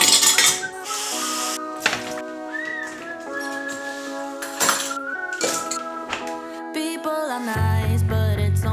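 Dishes clink and clatter in irregular bursts as they are washed, with ringing metallic tones sustained between the knocks.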